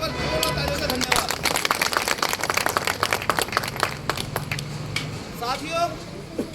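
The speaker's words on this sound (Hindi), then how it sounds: "इनके लिए एक बार जोरदार तालियों से धन्यवाद" Audience at an event clapping in a loud burst of applause, dense and continuous with crowd chatter mixed in, fading near the end.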